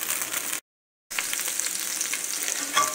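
Worms frying in a pan for an omelet, a bright close sizzle and crackle with stirring scrapes, cut by a brief half-second silence before the frying resumes, no talking.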